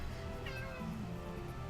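A player voice imitates a cat's meow during a tabletop role-playing session, a drawn-out mewing call heard close and fairly quiet over a low background hum.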